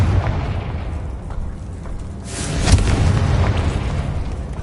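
Confringo fire spell blasts in Hogwarts Legacy: a low rumbling explosion that swells in the middle and holds as a loud, sustained boom with no voices.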